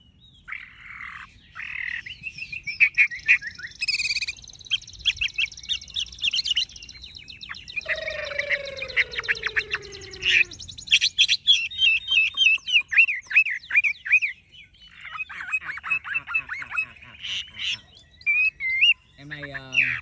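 A caged Chinese hwamei songbird sings loud, varied phrases of rapid whistles and trills close by, with brief pauses between bursts and a low steady tone in the middle.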